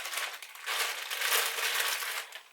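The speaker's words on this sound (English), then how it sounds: "So the hair comes in a plastic bag just like this" A plastic bag holding a hair wig being handled, a continuous close crinkling and rustling of thin plastic that swells louder midway.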